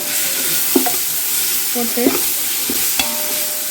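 Ginger garlic paste sautéing with onions in a pan for chicken dum biryani gives a loud, close, steady sizzle, broken by a few sharp spatula scrapes, with a brief spoken word.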